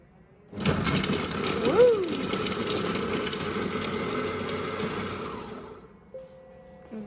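A Monsieur Cuisine Connect food processor whirs at speed 5 chopping onion and garlic in olive oil, a loud steady buzzing motor run of about five seconds that starts abruptly and then winds down.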